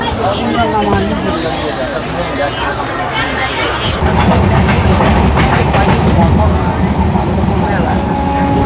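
The Kanchankanya Express runs through forest in North Bengal, with steady loud wheel clatter and rumble from on board that grows heavier midway, and voices murmuring throughout.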